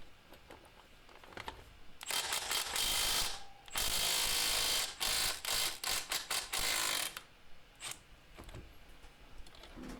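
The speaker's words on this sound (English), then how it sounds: "I'll just use an impact wrench and loosen off the 24mm nut on the outside here" An impact wrench loosens a 24mm axle nut on a Suzuki DR650 motorcycle, loud and close, with rapid hammering bursts in several chattering pulses followed by quieter tool handling.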